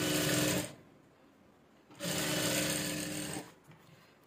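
Sewing machine running in two loud bursts as it stitches a 2-inch strip straight onto a straight midi dress, with a short quieter pause between runs and no talking.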